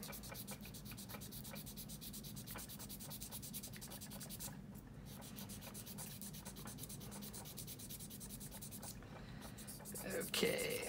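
A sanding stick rubs back and forth over a small plastic part from a 1/48 scale Kinetic F-16B model kit, quick close, soft rasping strokes in a steady rhythm with a brief bump near the end.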